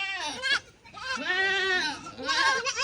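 Goats bleat loudly and repeatedly at close range on a farm, several long wavering cries overlapping in quick succession with no talk between them.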